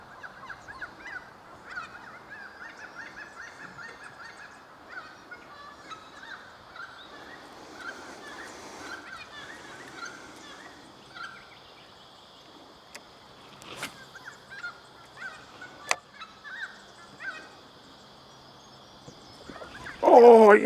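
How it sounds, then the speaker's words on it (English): Outdoor birdsong with many chirps and calls at moderate distance over a steady background hum, ending in a sudden louder burst. "Listen to that bird life."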